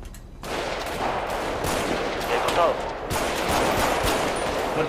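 Rapid bursts of automatic gunfire in a gang shootout within a video game roleplay, loud and continuous volleys filling the clip with overlapping shots.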